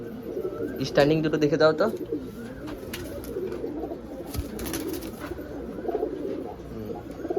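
Pigeons of a Murshidabad highflyer breed, including a red female and a green male offered in pairs, coo softly and continuously beneath nearby conversation, with a brief louder burst of voices partway through.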